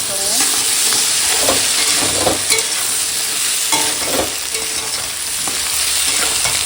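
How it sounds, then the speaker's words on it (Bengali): Spices with ginger-garlic paste fry in a pan while being stirred, a close, steady sizzle broken by repeated scraping strokes of the spoon. "এখন একটুখানি মশলাটা কষিয়ে নেবো"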